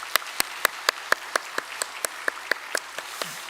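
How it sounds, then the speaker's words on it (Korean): A church congregation at a Sunday worship service claps to welcome new members: a sparse, uneven run of sharp, distinct claps, fairly close and moderately loud, with no talking. "우리 박수로 환영할까요?"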